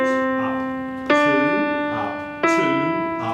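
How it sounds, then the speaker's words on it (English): Stepwise melodic notes played on an instrument as a major scale demonstration, each tone rich in steady harmonics, with sharp new attacks near 1.1 and 2.4 seconds over quieter sustained notes, heard alone without talk. "you will be playing a major scale"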